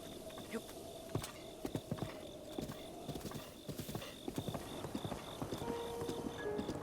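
Horse hooves in Zelda: Breath of the Wild clip-clop in an even walking rhythm over a steady ambient hum, with a faint tone near the end.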